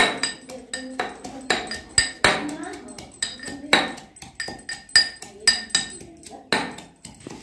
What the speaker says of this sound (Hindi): अब अदरक के साथ में हम लहसुन की भी कूट लेंगे खलबट्टे में